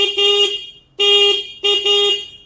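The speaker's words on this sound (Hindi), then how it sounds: "हॉर्न एक बार सुन लेते हैं कैसा है" Three short, bright horn beeps from a 2024 Honda Hornet 2.0 motorcycle, the last two closer together, loud and near with brief gaps between them.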